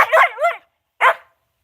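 Indoors, a dog lets out two sharp, close barks, the first a quick double, the second a single yip after a short pause, each loud and clear against silence.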